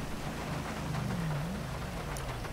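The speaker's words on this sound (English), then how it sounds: "It's raining, so I don't think anyone will be outside" Rain falls steadily in GTA V (LSPDFR), a dense, even hiss under a low engine hum from a 2018 Dodge Charger, with no talk.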